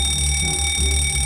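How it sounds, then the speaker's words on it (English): A school fire alarm rings continuously and loudly with a steady electronic tone, filling the whole moment with no voices over it. "It's just an alarm, Caillou."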